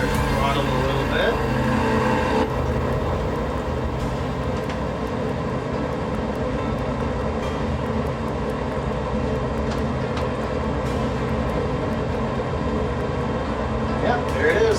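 A TL 2000 Sting S4 ultralight aircraft's engine drones steadily from inside the cockpit at reduced throttle, a continuous loud hum with no pauses.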